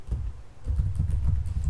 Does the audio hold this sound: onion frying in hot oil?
no